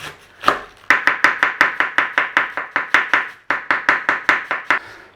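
Cabbage thinly sliced with a knife on a cutting board, about twenty crisp rhythmic chops in quick succession with a brief pause midway, close and clear with no talk.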